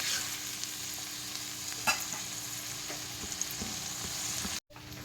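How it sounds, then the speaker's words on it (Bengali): Ginger-garlic paste sizzles steadily in hot oil in a pan while being stirred, with a continuous frying hiss, light scraping stir strokes and a brief louder clack near the middle, ending in a short cutoff. "আদা রসুন বাটাটা ভালো করে দিয়ে কষিয়ে নেব"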